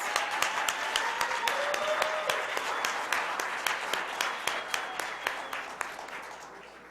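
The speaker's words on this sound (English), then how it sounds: "give them another round of applause" An audience applauds at a Black History Month celebration, with steady, brisk clapping that sounds fairly close and tapers off near the end.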